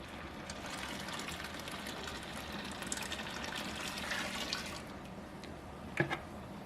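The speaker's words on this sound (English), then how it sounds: "I'm heating it up to flush my chiller out before we use it" Hot water rushing steadily through a beer-brewing wort chiller during a home brew day, a faint continuous flow with a brief splash or clunk near the end and no talking.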